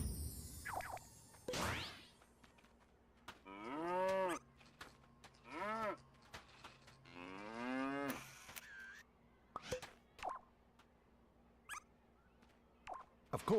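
A cow lows in a video game, several drawn-out moos with falling tones separated by short gaps, close and fairly loud, with a few brief whooshes and clicks between them.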